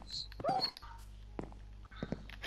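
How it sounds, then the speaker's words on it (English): Short, faint whimpers and yips from a dog in the video game Minecraft, soft and scattered over a low background hum, with a person talking over them. "is that my dog dying?"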